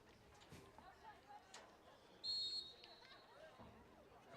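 A referee's whistle gives one short, sharp blast at a youth soccer match between Cherokee and Sterling in a 2022 coaches tournament, set against distant crowd chatter and voices.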